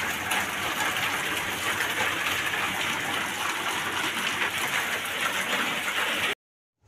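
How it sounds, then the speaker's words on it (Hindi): Heavy rain pours steadily outside at night, a dense, continuous hiss that holds at an even level for about six seconds before cutting off abruptly. "अभी देखो कितना तेज तेज से बारिश हो रहा है बाहर में।"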